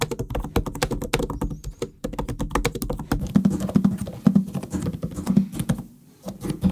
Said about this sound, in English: Typing on both keyboards, it's really a pleasure, and both keyboards are backlit.